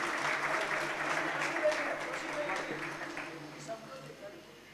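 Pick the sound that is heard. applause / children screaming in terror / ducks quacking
applause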